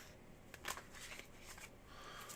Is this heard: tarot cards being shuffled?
yes